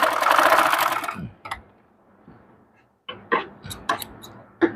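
A sewing machine stitches piping along a dress neckline, running in a dense whirring burst at the start, then pausing before several short, sharp stop-start runs and clicks.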